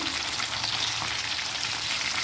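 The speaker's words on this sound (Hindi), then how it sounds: "हमें गरम ऑयल के अंदर बस 1 से 2 मिनट इसको फ्राई करना है।" Chicken leg pieces fry in hot oil, a loud, continuous close-up sizzle and crackle with no talking.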